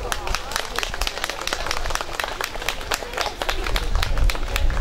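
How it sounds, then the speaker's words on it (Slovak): Audience clapping at a harvest festival (dožinky) in Slovakia, a dense run of sharp, steady handclaps from a crowd, rising slightly toward the end, with a voice speaking over part of it. "že ste prišli, to chce obrovský potlesk"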